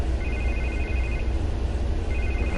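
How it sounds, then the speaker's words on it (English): A telephone rings in a tense scene as the city is in an uproar, its electronic tone pulsing in steady repeated bursts over a constant low rumble, fairly loud and with no voices. "I can't get the phone to stop ringing."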